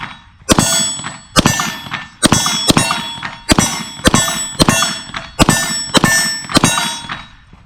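A Shadow Systems XR920 pistol fires in quick pairs and strings, each shot followed by the bright metallic ring of steel targets, about a dozen loud close hits in steady rhythm.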